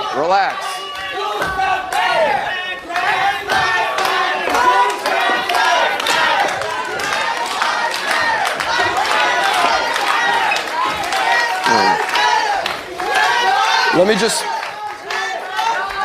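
Town hall audience disrupted by protesters, with a crowd chanting and shouting loudly and continuously, voices overlapping in a rough rhythmic roar with brief surges.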